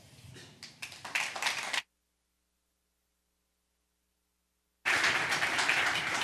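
Audience applause at a Microsoft Edge Web Summit keynote, a burst of clapping that cuts off into silence, then a loud, dense wave of clapping resumes and fills the hall.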